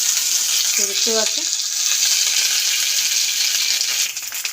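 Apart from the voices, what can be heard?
flat beans (sim) lightly frying in a pan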